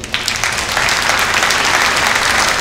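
A hall audience at a mayor's New Year ceremony breaks into applause, a loud continuous wash of many hands clapping close by with no voices over it.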